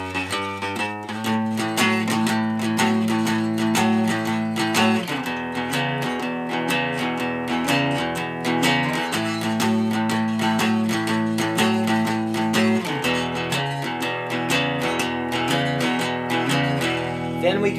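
An electric guitar strums chords in a steady rhythm, alternating two bars of A and two bars of E, played alone at moderate volume.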